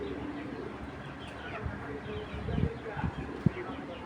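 A silver male pigeon of an old breed gives a few low, soft coos near the end, faint against room noise and a person talking.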